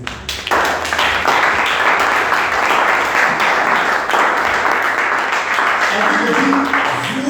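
A church congregation breaks into sustained applause and cheering, a dense wash of clapping that swells quickly and holds for several seconds before easing, with voices mixed in.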